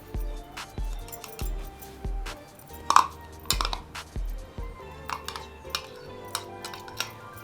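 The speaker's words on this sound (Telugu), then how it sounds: "ఇప్పుడు ఈ కార్న్లో ఈ ఉల్లిపాయలు వేసుకుందాం" Finely chopped onions go into a bowl of corn in a home kitchen, heard as a series of light clinks and taps of a utensil against the bowl, irregular and close, with no talking.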